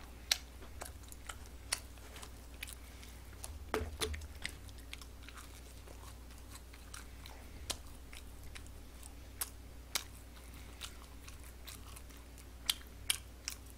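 McDonald's Chicken McNuggets from a Big Mac trio pack are chewed close to the mic, producing soft irregular crunchy bites and clicks over a quiet low hum.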